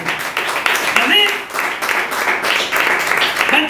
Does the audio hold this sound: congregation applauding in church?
yes